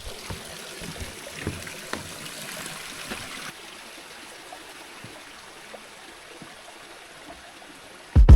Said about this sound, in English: We just got to this little tiny waterfall.